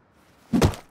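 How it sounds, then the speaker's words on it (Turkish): A stone strikes a tree in the Rust survival game, one short dull wooden thunk standing alone after near silence. "Taşla vuruyorum ama."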